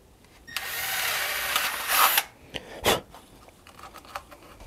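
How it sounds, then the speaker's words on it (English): A drill boring a hole through the main positive battery terminal while wiring a tiny house: a close, steady whir of about a second and a half, then a few short bursts and clicks. "Then the very last thing we do is we drill a hole."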